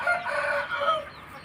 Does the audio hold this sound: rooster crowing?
yes